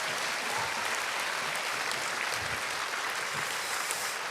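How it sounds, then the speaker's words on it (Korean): A church congregation at a combined regional Sunday worship service in Seoul gives a round of applause, an even, steady clapping from many people heard throughout with no voices over it. "그래도 큰 박수 한번 다시 부탁드립니다."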